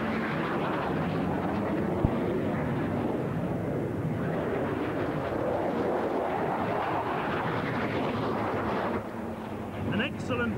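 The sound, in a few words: carrier fighter jet with Pratt & Whitney J57 turbojet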